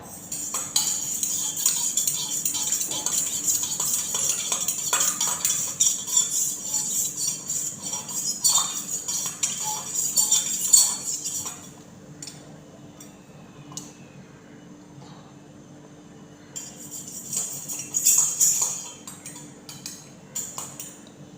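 A spoon stirs a passion fruit ice drink mixture, clinking steadily against the container for about ten seconds, pausing, then clinking again in a shorter burst, close and moderately loud.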